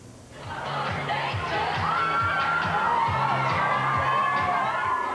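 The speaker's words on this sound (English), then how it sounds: "Friday night, Gullies on Niagara Street draws the single crowd in." Crowded bar on Niagara Street on a Friday night with a singles crowd, a loud steady wash of overlapping chatter and cheering voices filling the room, with a faint thumping music beat underneath.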